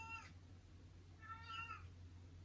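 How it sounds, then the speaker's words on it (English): A cat meows loudly twice, a short call at the start and a longer, drawn-out one about a second later, over a steady low hum. "Oh, my cat is yelling at me."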